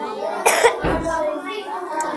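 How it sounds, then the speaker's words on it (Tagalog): A person coughs once or twice in a short burst, close and fairly loud, followed by low voices speaking. "Inuubo pa nga tayo."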